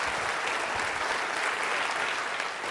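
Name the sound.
audience applause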